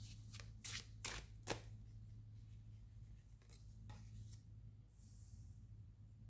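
Tarot cards are shuffled in a quiet room, a handful of crisp riffling bursts early on followed by softer sliding and rustling, faint against a low steady hum.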